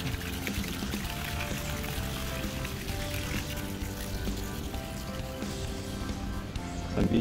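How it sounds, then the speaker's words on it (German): Steady running water splashes and pours down continuously in the Taubenloch Gorge, a close, even rush with no voices. "kommt noch Wasser runter"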